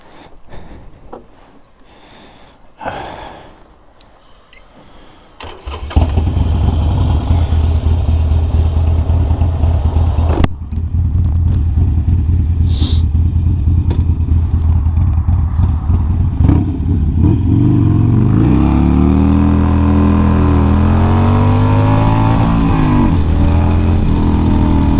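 A motorcycle revs hard in an attempted burnout on a salted road, starting with quieter clatter and idling before a loud sustained engine roar that rises and falls in pitch, close by.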